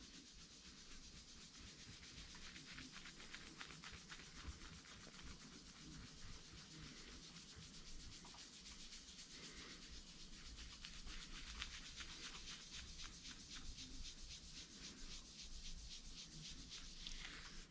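A guitar neck finish is rubbed and polished by hand, giving a steady, faint, close swishing friction with a rhythmic back-and-forth texture throughout.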